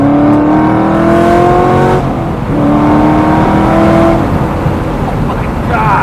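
An ND Mazda Miata swapped with an LS3 V8 accelerates hard with wheelspin in third gear, its loud engine note climbing in pitch through repeated upshifts, heard close from inside the car.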